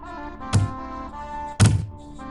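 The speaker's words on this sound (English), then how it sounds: "All right, the archers are still firing, but again, I've got these tower shields." Arrow volleys from archers strike tower shields in the strategy game Dominions 4, two heavy hollow thunks about a second apart over a low droning background, no voices.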